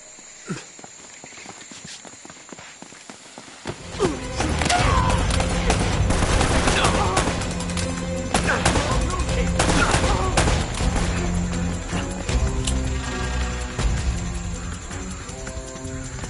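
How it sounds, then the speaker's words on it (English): Gunfire breaks out in a firefight in Uncharted: Drake's Fortune Remastered, erupting after a quiet opening and sounding as loud, dense bursts and volleys over busy game ambience and footsteps. "They're shooting at you too"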